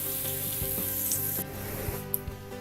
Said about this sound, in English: I'm just slowly sauteing all this.